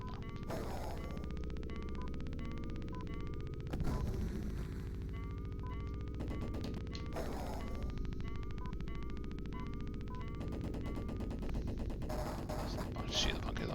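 Repeated blasts and crashing shots from the Mega Drive helicopter game Steel Talons sound over a steady electronic engine drone and bleeping music, with several bursts spread across the stretch.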